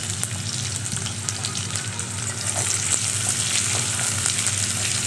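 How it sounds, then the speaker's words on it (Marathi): Sliced onion sautéing in hot oil with a pinch of asafoetida in a pan, a steady, close crackling sizzle that swells slightly partway through and carries on alone without talk. "मग लगेचच कांदा छान परतून घ्यायचा"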